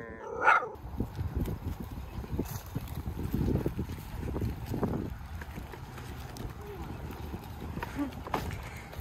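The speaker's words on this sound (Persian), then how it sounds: "مایلو همینجور صدا میزنه به هر سگی که میبینه." A dog on an outdoor walk barks repeatedly at other dogs it sees, with loose bursts over a steady rumble of movement and people talking throughout.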